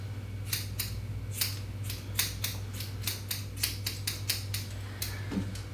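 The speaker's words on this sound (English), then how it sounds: "in between the toes you can pull up the hair and trim that with your thinning scissors" Thinning scissors snip the hair of an English Setter show puppy during grooming, a run of sharp, close metallic cuts in an uneven rhythm over a steady low hum.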